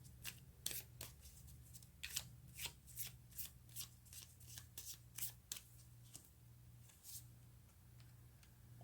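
Tarot cards being shuffled and drawn from the deck, a run of crisp riffling flicks and slaps close by in a quiet room, steady over a low background hum.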